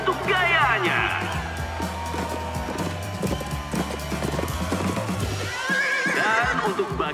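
A horse whinnies at the start and end while hooves clip-clop in a steady rhythm through the middle during an animated horse-riding contest, all under continuous talk and music.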